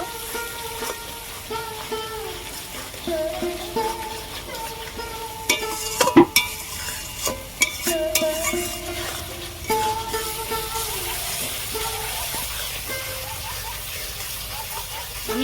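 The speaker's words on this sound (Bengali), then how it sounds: "ধনে গুঁড়ো ভালো করে কষিয়ে নেব" Ground cumin and coriander spices are stir-fried in oil for a snakehead fish curry: a continuous sizzle and hiss with scraping spatula strokes, a few louder clattering knocks midway, and a voice heard faintly at times.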